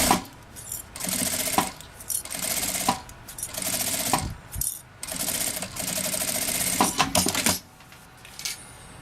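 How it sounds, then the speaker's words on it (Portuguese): Sewing machine stitching along the bottom near zipper teeth while making a vintage case, running in loud rapid bursts broken by short pauses and clicks, close by. "agora eu vou, então, passar uma costurinha aqui nessa parte de baixo"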